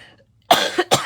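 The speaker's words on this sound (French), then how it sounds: "Désolée pour la toux" Two sharp, close coughs in quick succession after a brief quiet pause.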